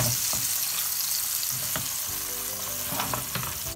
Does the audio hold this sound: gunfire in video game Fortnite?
no